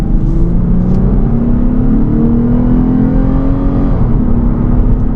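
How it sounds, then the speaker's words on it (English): A 2025 Lexus IS 350 F Sport sedan engine revs steadily and loud in sport mode, pitch climbing gradually as it accelerates out of a turn, with a constant throaty drone throughout. "Great engine sound."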